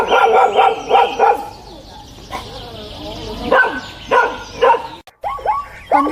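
A dog barks in quick bursts, a run of sharp yips at first, then a pause and more barks with whimpering in between, loud and close.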